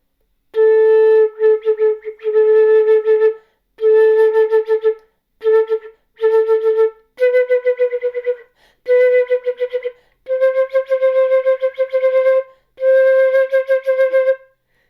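Flute notes with a strained, uneven vibrato, played in short separated phrases with brief pauses, clear and close with no talking.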